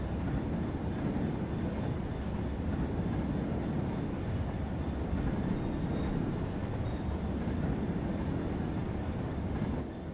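A DRS Class 66 diesel locomotive shunting in the Train Sim World 4 game, coming off the main line at Cadder toward sidings, gives a steady, dense rumble of engine and rolling wagons that holds constant throughout.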